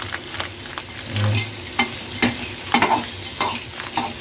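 Roasted chana dal stirred and browning in a pan for idli chutney, giving a steady close sizzle broken by scraping stir strokes and small clinks, with no voices.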